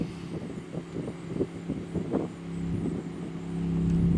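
An off-road vehicle with a sand-paddle kit, running on stock tires in the dirt, bounces off its rev limiter in quick rhythmic bursts over wind and engine rumble.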